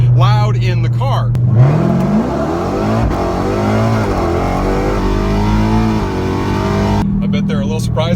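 A Dodge Hellcat four-door sedan in full race trim revs loudly and steadily from inside the cabin, the engine note climbing and holding under people talking.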